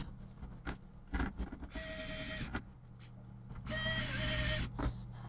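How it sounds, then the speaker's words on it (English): Small screws being driven into the motherboard of an HP 15-aw065sa laptop during a touchpad repair, giving two bursts of high whirring from a small electric screwdriver between quiet clicks and handling taps, close up with no talk. "I should probably put the motherboard screws in, eh?"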